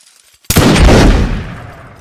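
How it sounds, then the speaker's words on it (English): A sudden loud musket volley erupts in a Mount & Blade Napoleonic Wars battle, a single crashing burst of gunfire that rumbles and fades over the next second and a half. "It's fire at will."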